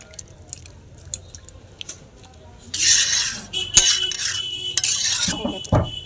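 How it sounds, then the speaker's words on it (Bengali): A spoon stirring cauliflower and potato fish curry in a pot, with wet scraping and squelching bursts of moderate loudness, alone after a quieter stretch. "এবার পুরোটা এবার মিক্স করে দেবো।"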